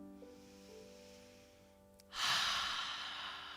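A person breathes in deeply and then lets the breath out in a strong, breathy exhale, heard close and alone during a guided relaxation.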